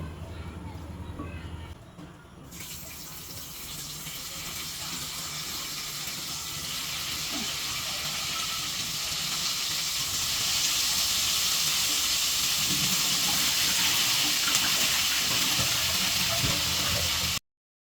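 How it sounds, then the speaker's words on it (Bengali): Eggplant slices frying in oil left over from frying fish, a steady hiss that builds and grows louder, with some background noise. "এই তেলের মধ্যে বেগুনও ভেজে নিব।"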